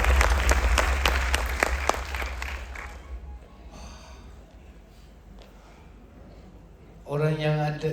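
A strong round of applause from an audience at a business opportunity event, dense clapping that fades and thins out after a few seconds before a voice rises at the end.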